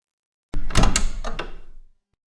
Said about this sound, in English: I heard the sound of a door opening